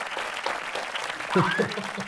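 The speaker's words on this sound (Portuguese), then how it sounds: "Palmas, produção!" Studio audience applause welcoming two guests onto a Brazilian podcast set, a steady broadband wash of clapping throughout with a brief voice rising over it partway through.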